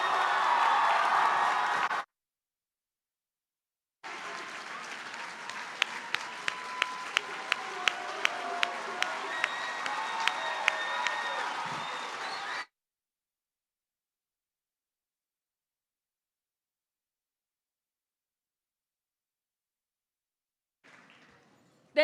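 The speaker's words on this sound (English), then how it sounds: "Let's give them another round of applause, shall we?" Sustained audience applause for the United States Army Band Pershing's Own Brass Quintet at a JROTC awards ceremony, a steady wash of many hands with a few sharp near claps, after a short burst and a pause.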